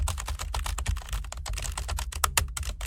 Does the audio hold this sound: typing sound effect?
yes